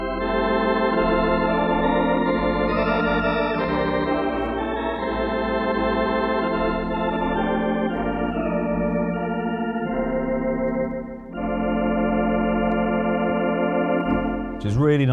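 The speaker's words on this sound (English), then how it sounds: "So that is the sound of the Ringway organ tone." Ringway Maestro electronic organ playing a sustained melody with trio three-part harmony, rich chords of stacked tones filling the room, steady and loud throughout with a brief dip near the end.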